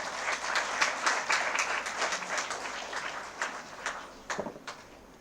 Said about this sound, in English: Let's welcome the students with a big round of applause.